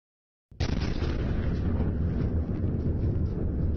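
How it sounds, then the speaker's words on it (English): An explosion in Moscow, a bomb blast a few miles from the Kremlin, bursts in suddenly after a brief silence, then becomes a sustained loud roar that holds steady to the end, with no voices. "Suddenly, a loud explosion shattered the peace."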